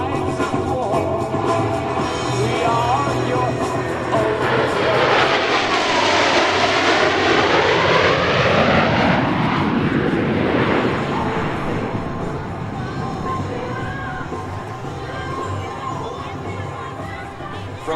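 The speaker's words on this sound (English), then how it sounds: "From the right, the Blue Angel double farvel." A pair of U.S. Navy Blue Angels jets pass in a double farvel at the 2017 Millville Airshow, a loud roar that swells with a sweeping pitch shift and then fades, with crowd murmur and announcer talk underneath.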